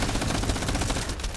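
Rapid automatic gunfire from a weapon in the video game The First Descendant, a dense continuous burst of shots lasting the whole moment, loud and close with no talking.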